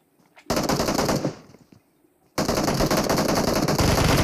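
Loud bursts of automatic gunfire during a fight in the battle royale game PUBG Mobile on the Erangel map, two sustained rapid volleys separated by a short lull.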